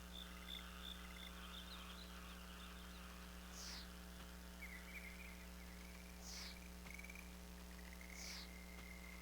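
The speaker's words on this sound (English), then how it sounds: "Baby frog." Game sound from Breath of Fire 4 for a baby frog: three short, bright croaking chirps at regular intervals over a steady low electronic hum and soft looping tones.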